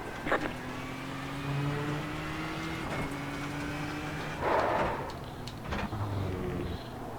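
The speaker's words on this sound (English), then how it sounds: "I can hear the car getting bogged down" A Ford GTE race car engine in iRacing at Le Mans drones and strains, its pitch climbing and dropping through gear changes as it labours and bogs down.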